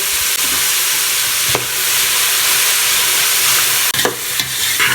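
Finely shredded medium-sized cabbage is stir-fried for vegetable spring rolls, giving a steady close sizzle and hiss in the pan. Two short louder bursts of stirring break through the sizzle. No voices are heard.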